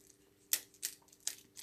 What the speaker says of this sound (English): I'm flipping my butterfly knife in the background,